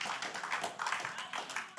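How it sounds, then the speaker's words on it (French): A church congregation claps in praise, producing a quick, even run of faint, distant clap beats in a short burst. "Give him a clap of praise."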